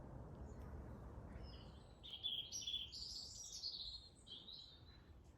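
Birds chirp and sing in a garden in October, with high, thin twittering calls rising over a faint, low background hum. The song is clearest in the second half, fairly distant, and no one speaks.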